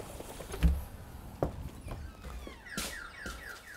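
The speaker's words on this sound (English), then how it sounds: "The alarm's just gone off." An alarm going off inside a UK investment property, a row of repeated electronic chirps starting partway through, with nearby footsteps and knocks before it, moderately loud in an indoor space.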